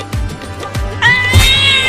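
A cat meows several times close by, loud, harsh and drawn out like a caterwaul, with the longest cry near the end.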